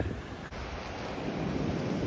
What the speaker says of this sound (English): And there's the ocean.